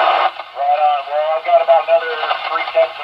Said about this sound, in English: It's very hard to find you in the static